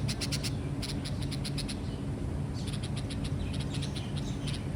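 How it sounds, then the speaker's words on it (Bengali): Birds calling by a pond at Banabithi Resort on a cloudy day, repeated high chirps in short bursts over a steady, low outdoor rumble. "এই পাখির ডাক"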